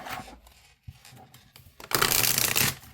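A quick riffle of shuffling oracle cards, a soft burst followed by a louder, dense flutter of cards, with no talking.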